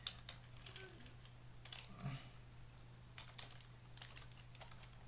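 Quiet, uneven keystrokes on a computer keyboard while entering Java code for a small calculator program, coming in short clusters of taps against a low steady hum.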